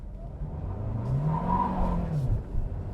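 Kia Sportage Hybrid 2024 GT-Line pulling away hard from electric mode, engine note rising and falling through a surge with a faint tire chirp, heard from inside the cabin.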